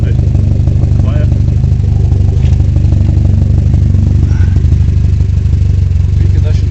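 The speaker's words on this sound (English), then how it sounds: "They're pretty noisy, but you don't want a car like this to be quiet." Lotus Elite S1 sports car with straight-through exhausts running loud and steady at close range, a deep continuous engine drone without pauses for the whole stretch.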